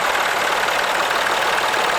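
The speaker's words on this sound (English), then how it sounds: "This is a Massey Ferguson 40" At a steam rally, an industrial Massey Ferguson 40, which is based on the 135 tractor, idles loud and close, giving a dense, steady engine roar with no talking.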